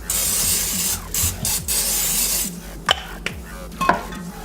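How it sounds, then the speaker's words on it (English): Short bursts of non-stick, zero-calorie cooking spray hiss onto a pan before frying eggs, several quick sprays followed by light clinks and scraping of cookware. "spray the crap out of this pan"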